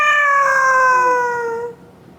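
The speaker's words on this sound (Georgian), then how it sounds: "კატა ჩხავის." A cat gives one long, loud meow that slides gradually down in pitch and fades out after nearly two seconds, heard alone with no talking.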